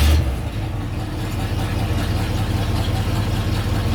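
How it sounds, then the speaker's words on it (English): A 1971 Chevrolet Suburban engine idles steadily just after startup, a close, low, throbbing rumble with an even pulse and no talk over it. "fire up the truck and make sure everything works"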